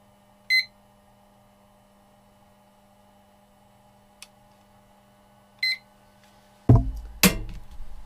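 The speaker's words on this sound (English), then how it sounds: "And set the timer for 15 minutes." A kitchen-style timer gives two short, bright beeps a few seconds apart while being set during LiPo battery charging, with a faint click between them over a low hum, followed by louder handling clatter.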